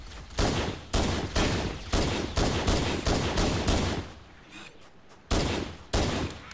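Gunfire in the video game Halo during a fight against Covenant hunters and jackals: bursts of rapid automatic shots in repeated clusters, loud and close, with brief pauses between volleys.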